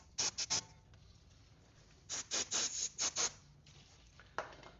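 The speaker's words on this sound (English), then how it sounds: "take some brake cleaner and some Scotch-Brite, clean up the inside of that barrel and the edges" A Scotch-Brite pad with brake cleaner scrubs the inside of a BMW E36/E46 rear control arm bushing barrel, making close, scratchy rubbing strokes: a quick burst of three, a pause, then a run of about six and a final scrape.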